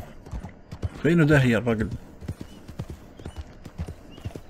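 A horse in Red Dead Redemption Online trots with a steady, close clip-clop of hooves throughout, punctuated by a loud whinny early on, while someone speaks briefly.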